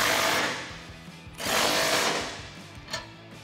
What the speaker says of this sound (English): Grab your 16 millimeter wrench and socket and tighten these down